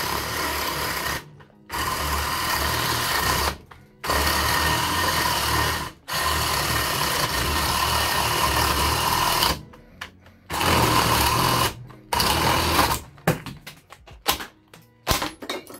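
An INGCO power drill bores through wood about 2 cm thick in several loud, harsh, grinding bursts of a few seconds each, separated by brief silent pauses, with shorter stuttering bursts near the end.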